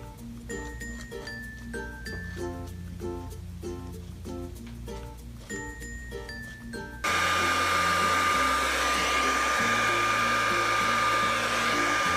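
A hair dryer blows acrylic paint across a Dutch pour in a fluid art session. Music plays for about seven seconds, then the dryer switches on as a loud, steady whooshing roar with a high whine that runs to the end.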